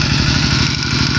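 A farm tractor engine chugs steadily nearby with a low, rapid rhythmic thumping and a constant mechanical rumble.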